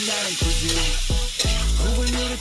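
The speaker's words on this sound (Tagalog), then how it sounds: "At nagisa na rin tayo ng bawang at sibuyas mga lods." Garlic, onion and chopped octopus sautéing in a hot pan, a continuous loud sizzle broken by repeated scraping stirs of a utensil against the pan, close up with no voices.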